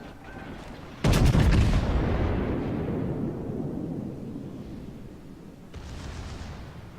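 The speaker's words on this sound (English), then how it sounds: "I could use a full salvo on him without being at risk of firing back" A Montana battleship fires a full main gun salvo in World of Warships: one loud, close booming blast with a long rumbling decay, then a softer second burst near the end.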